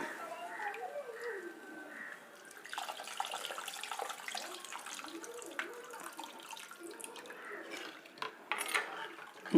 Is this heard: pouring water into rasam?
yes